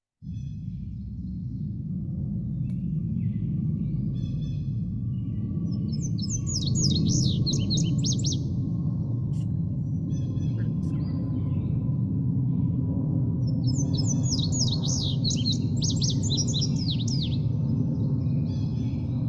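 Two bursts of bright, rapid bird song ring out over a steady low rumble of background noise, with a long pause between phrases.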